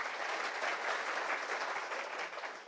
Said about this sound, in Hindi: प्लीज उनके लिए ताली बजाइए